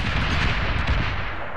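Dense, continuous gunfire in Medal of Honor on Xbox 360, a sustained roar of rapid shots and booms, loud and close with no pauses.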